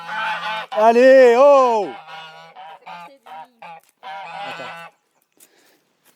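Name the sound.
geese honking on a farm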